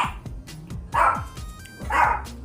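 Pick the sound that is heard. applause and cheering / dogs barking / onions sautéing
dogs barking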